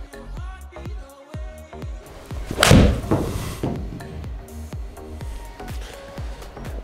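A golf club strikes the ball once in a single sharp, close crack, while rhythmic background music plays throughout.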